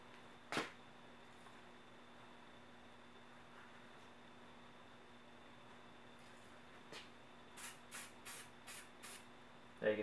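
Spray paint hisses through a camouflage stencil in one short burst, then a quiet stretch, then a quick run of five or six brief spurts and a final burst, close and fairly soft.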